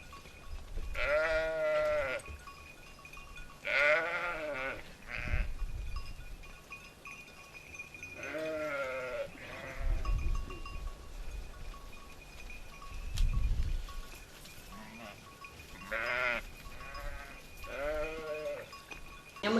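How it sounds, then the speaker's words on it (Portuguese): A flock of sheep and goats in the Cardanha countryside of Portugal bleating in repeated, wavering calls, several animals at mid distance taking turns, with quieter gaps and soft rustling between calls. "os rebanhos de ovelhas e cabras"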